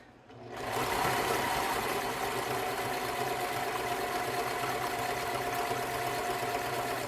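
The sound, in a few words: sewing machine stitching fast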